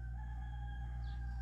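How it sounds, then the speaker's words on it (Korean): A rooster crows faintly in the distance, a short call rising over a steady low hum of indoor background noise. "이거 닭 소리지?"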